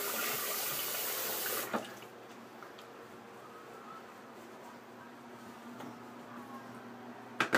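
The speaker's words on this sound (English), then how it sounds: "I'm going to wet the face and we'll get started." Running tap water pours steadily for a moment and then stops, followed by faint drips and quiet splashes as the face is wetted before a shave.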